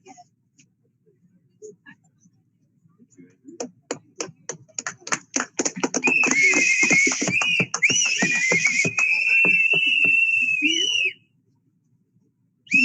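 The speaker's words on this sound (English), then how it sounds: "So we have the whistles out today because we are in Washington, D.C." Protesters blow whistles at a Washington, D.C. protest: scattered short blasts build into a dense, loud, sustained shrilling chorus for several seconds before stopping abruptly, with voices mixed in.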